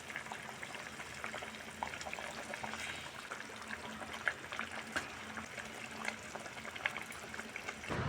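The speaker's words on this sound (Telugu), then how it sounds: "ఇప్పుడు చేపలు వేసుకోవాలి ఒక్కొక్క చేప ఒక్కొక్క చేప చిన్నగా అలా వేసుకోవాలి" Fish pieces slipped one at a time into a simmering pot of fish curry, a steady low bubbling and liquid hiss with small wet splashes scattered throughout.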